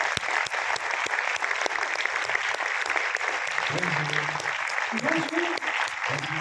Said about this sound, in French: d'applaudir bien fort Clovis Cornillac.